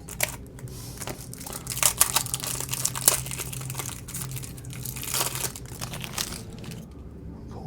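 Packaging for a Kyoto Traveler's Notebook crinkles, crunches and tears as it is unwrapped, with uneven bursts of rustling that are loudest around the middle and then fade.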